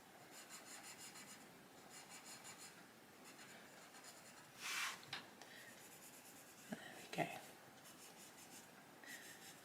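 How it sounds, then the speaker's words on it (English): Coloured pencils rub across a paper colouring page in soft, steady back-and-forth strokes, close and quiet, with a few firmer scratchy passes and a person speaking at moments. "I'm just plain colouring this."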